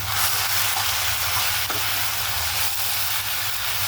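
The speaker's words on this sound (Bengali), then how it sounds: "এখন আমি শাকটা নেড়ে চেড়ে নামে ফেলাইতেছি" Leafy greens fry in a pan with a continuous close hissing sizzle, broken by a brief scrape of stirring, loud and with no voices.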